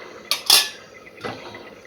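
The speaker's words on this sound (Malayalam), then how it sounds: "അപ്പം ചൂടാനായിട്ട് ചട്ടി വെച്ചു." A pan for appam is set down on a stove, giving a couple of metallic clanks and scrapes, close and fairly loud against a quiet kitchen background.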